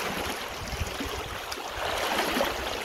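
Broad, steady rush of river water running through shallow one-to-three-foot swifts on the Sand River, a soft continuous wash with slight swells, heard from close by.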